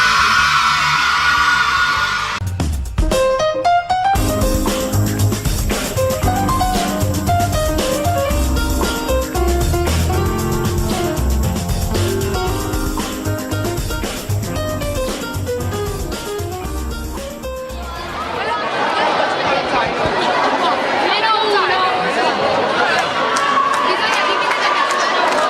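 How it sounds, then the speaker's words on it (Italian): Crowd at a youth basketball tournament in a sports arena, with music playing over sustained crowd noise and a roaring swell of cheering, yelling and children's shouts toward the end. "Deve applaudire e urlare chi vuole venire tutta l'estate."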